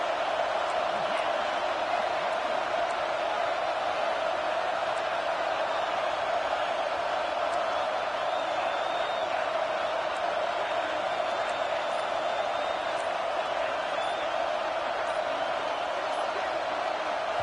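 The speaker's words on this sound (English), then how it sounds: "with this place rocking, the crowd forces a false start" Stadium crowd at a college football game between Miami and LSU in Death Valley roars loudly and steadily on a key third down, a dense sustained wall of noise with no break.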